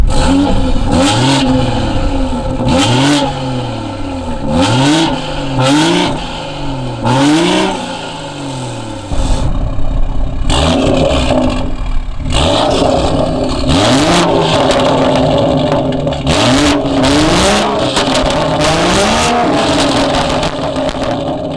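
BMW F30 340i sports sedan exhaust in its quieter mode with valves closed, giving soft, whispery burbles and raspy revs that rise and fall repeatedly, close and steady, with wind noise in the background.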